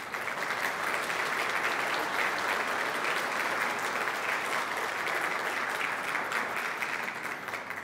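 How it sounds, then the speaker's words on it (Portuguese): An audience at a community leadership talk gives a sustained round of applause, a thick, even wash of many hands clapping that holds steady throughout and fades slightly at the very end. "eu respeitosamente queria pedir uma salva de palmas para ele"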